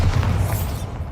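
Bombarda blasting spell going off in the video game Hogwarts Legacy, a loud, sustained low boom lasting about a second with a heavy rumbling body and no talk.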